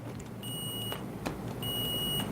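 A multimeter's continuity tester gives a high, steady electronic beep twice, each about half a second long, clear over a quiet background.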